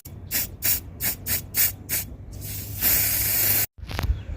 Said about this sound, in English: just get your spray paint and just side to side spray it